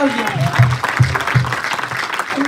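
Clapping during a church Bible study gathering, a few claps in loose rhythm mixed with voices and a talking speaker over it.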